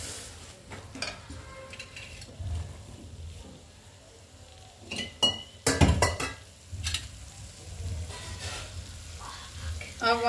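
Sezwan rice mixture being stirred in a pan over a medium gas flame, with soft sizzling, scraping spoon strokes and occasional sharp metal clinks against the pan.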